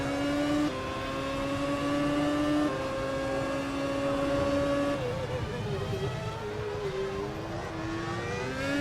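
A race car's engine drones steadily at a track in Abu Dhabi during practice, its pitch rising through the gears and shifting as it takes a curb-riding section, with a commentator talking over it.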